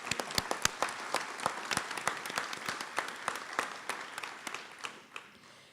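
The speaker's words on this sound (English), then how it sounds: "Let's give them another round of applause." Audience applause at an elementary school rededication ceremony, a sustained round of clapping from a gathered crowd with some loud individual claps near the front, gradually tapering off.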